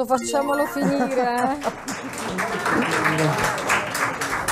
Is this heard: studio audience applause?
yes